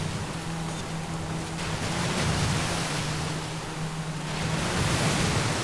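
Car in Forza Horizon 5 splashing through water during a seasonal championship race, heard as a steady broadband rushing wash with a low engine hum running throughout, swelling slightly toward the end.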